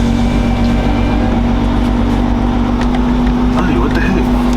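A stock Subaru WRX engine at cold start, holding a loud, steady high idle close by with a constant droning hum and rumble that stays even throughout, with no pauses or changes in pitch.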